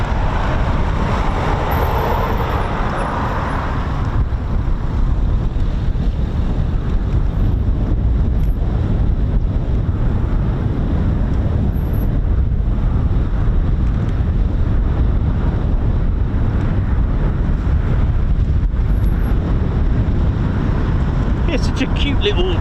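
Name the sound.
strong wind blowing at RAF Coningsby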